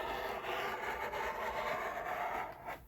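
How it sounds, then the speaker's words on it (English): Scissors or shears cutting through thick, quilted moving blanket fabric for a sewing machine cover, a steady close-up rasping and rubbing that runs continuously for a few seconds with no talk. "I'm gonna trim this moving blanket part just a smidge"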